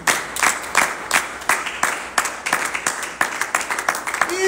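A church congregation claps and cheers in praise of the word of God, a dense, sustained wave of applause with rhythmic bursts of clapping that swells and recedes across the room.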